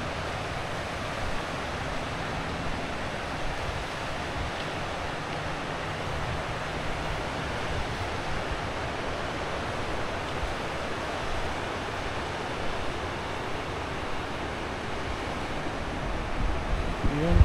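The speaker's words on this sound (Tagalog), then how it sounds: "ang sarap naman dito sa may harap ng Pacific Ocean" Pacific Ocean surf rolling in at Guiuan, Samar, a continuous broad wash of waves with wind noise buffeting the microphone, steady and moderately close, no voices.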